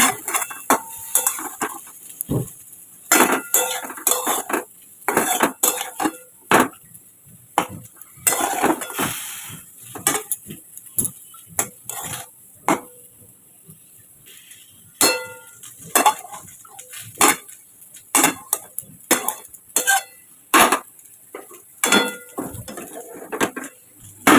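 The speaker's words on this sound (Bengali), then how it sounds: "চাপা দিয়ে দিয়ে শাকটাকে ভেজে নেবো" A metal utensil stirs and scrapes greens in a pan with frying garlic, salt and turmeric, making repeated sharp clinks and scrapes in uneven bursts over a low sizzle, with no talking.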